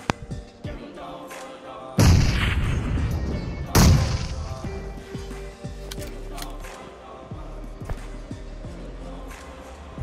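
Gunfire in PUBG Mobile, with two loud bursts of shots and booms followed by quieter thuds and distant in-game noise.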